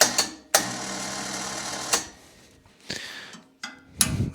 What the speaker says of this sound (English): Let our winch out.